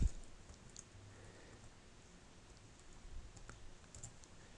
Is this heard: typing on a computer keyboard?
yes